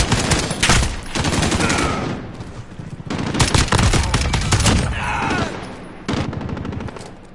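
Automatic rifle fire in Call of Duty with the FAL, loud rapid bursts of shots in several clusters separated by brief pauses, close and sharp.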